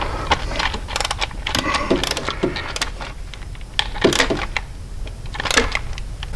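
A wrench tightens a bolt on a Harley-Davidson Touring shift shaft. It gives close, irregular metallic clicks and ratcheting ticks in quick bursts, with faint background hum.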